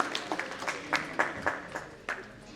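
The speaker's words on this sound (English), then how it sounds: "Please give him a big round of applause" An audience at an academic event applauds: scattered individual claps in an uneven patter, moderately close and not very loud, thinning out after a couple of seconds.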